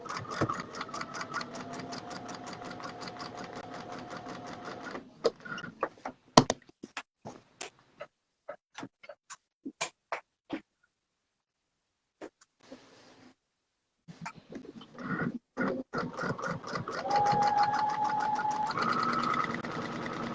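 Sewing machine stitching a quilt: fast rhythmic needle chatter in runs, broken by separate single clicks and a pause, then a steady stretch of stitching resumes.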